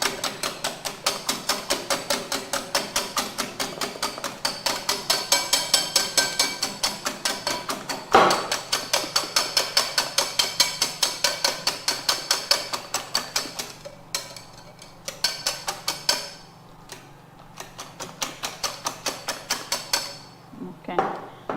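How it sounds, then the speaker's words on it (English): Whisking eggs with thyme in a bowl for a plantain frittata: a steady, fast rhythmic clatter of the whisk against the bowl, continuous and close, briefly pausing and resuming near the end. "And then we whisk again. We whisk this properly."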